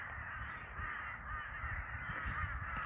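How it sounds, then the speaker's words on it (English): Crows cawing steadily from below near an army base, a dense overlapping chorus of harsh calls at moderate distance with no speech. "You can hear crows down below, down in the army base."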